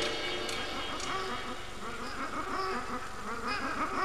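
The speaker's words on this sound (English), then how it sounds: "Sped up laughter sound like quacking ducks." At the end of Pink Floyd's Bike, sped-up laughter chatters like a flock of quacking ducks. Dense, rapid, nasal pulses run continuously and loudly from start to finish, with no speech.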